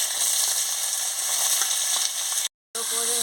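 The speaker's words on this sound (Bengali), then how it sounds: "সব সবজিগুলো দিয়ে দিচ্ছি, আলু, টমেটো, পেঁয়াজ, কাঁচা লঙ্কা কেটে রেখেছিলাম" Potato, tomato, onion and green chilli hit hot oil for a Bengali fish curry, giving a loud continuous sizzle that cuts out briefly near the end before resuming, no voices.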